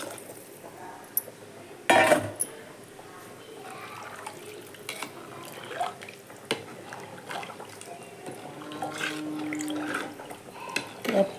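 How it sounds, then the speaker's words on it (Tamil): Tamarind solution and masala water rinsed from a grinder jar are poured into a simmering fish curry, with liquid splashing close by, clinks of a metal vessel and utensil, and a few sharper knocks, without speech. "இப்போ நம்ம புளி கரைசல் உள்ளே ஊற்றிக்கலாம் புளி கரைசல் ஜார் கலவுனது எல்லாம் சேர்த்துக்கலாம்"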